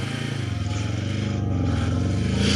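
A 2024 Kawasaki Ninja 7 or Z7 Hybrid motorcycle pulls away in first gear in sport mode, giving a steady, close engine drone that swells slightly toward the end.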